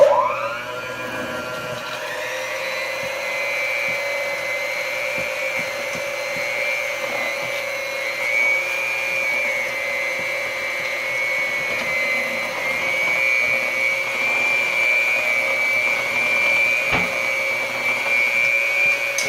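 An electric stand mixer works cinnamon roll dough with a steady, close motor whine and hum, holding constant for the whole stretch with a slight rise in intensity later.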